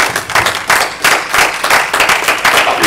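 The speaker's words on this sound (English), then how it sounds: "Let's give him a hand clap." A church congregation clapping hands together in a steady, rhythmic beat, loud and close, with several strong bursts each second.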